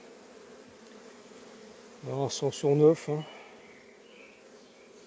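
Honey bees buzzing around hive frames: a faint, steady hum throughout, with a short cluster of louder, close buzzing passes in the middle; a voice speaks briefly at low volume.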